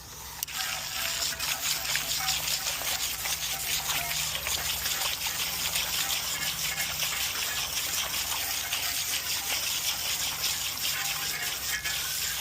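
Stale, stagnant water gushes out of a backyard bird bath in a steady, continuous splashing pour onto the ground behind it, close and fairly loud for about twelve seconds.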